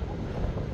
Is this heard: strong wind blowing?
yes